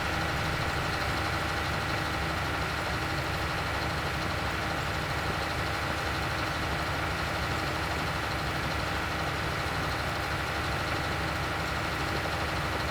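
A tractor engine idles steadily in the video game Farming Simulator 19, a continuous mid-pitched rumble that holds at an even, fairly loud level with no break and no voices.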